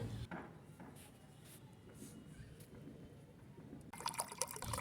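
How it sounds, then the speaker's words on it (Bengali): Water poured into an orange and lemon sherbet, a faint liquid trickle and fill heard close, ending in a brighter splashy burst of pouring near the end, with no talk. "এবারে দিয়ে দেব জল।"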